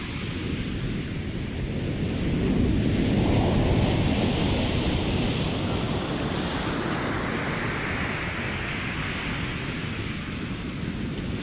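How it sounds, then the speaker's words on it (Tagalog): Heavy surf from typhoon Kristine roars steadily on the coast of Calintaan, Occidental Mindoro, large waves crashing and washing in a continuous rush of noise with wind buffeting the microphone, no voices. "Napakatindi naglalaki ang mga alon"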